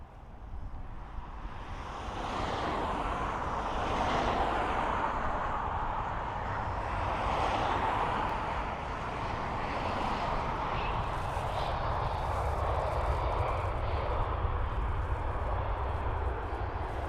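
A Qatar Airways Boeing Dreamliner arriving at Dublin Airport, heard as a steady broadband jet roar that swells in from a distance and holds loud for the whole stretch, with wind buffeting the microphone.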